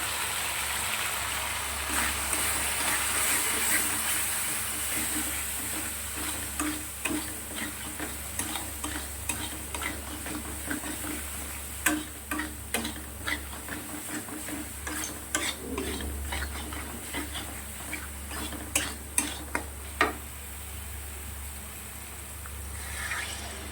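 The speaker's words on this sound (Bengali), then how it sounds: "মশলাটা অনেকটাই কষানো হয়ে গেছে" Spice paste with turmeric powder and extra chili sautéing in a pan for a spicy fish curry: a steady sizzle under repeated sharp spatula scrapes and taps that grow more frequent toward the end.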